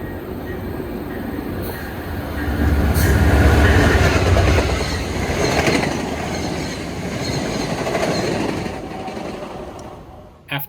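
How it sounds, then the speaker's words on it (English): Via 84 passenger train blasts through Brampton station, a loud sustained rumble of wheels and rail clatter that swells near the middle and fades toward the end. "15 minutes after was Via 84 blasting its way through the station on its way to its next station"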